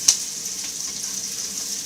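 Onions sautéing in a frying pan while matzo brei is made, a constant soft sizzling hiss with one quick sharp tick at the start, close and without voices.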